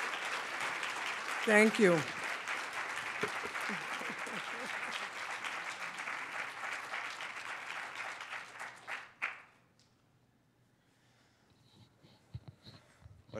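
Audience applause following a poetry reading at a city council district event, sustained clapping with a brief voice near the start, fading out after about nine seconds into near silence with a spoken thank-you.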